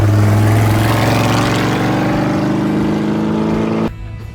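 A 2025 Toyota Land Cruiser hybrid engine accelerating, a steady, loud mid-pitched drone that rises in pitch before cutting off abruptly near the end.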